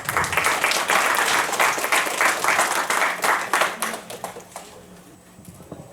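Audience applause at a carbon-neutrality transition forum welcomes an incoming speaker, a dense, loud patter of many hands clapping that fades toward the end.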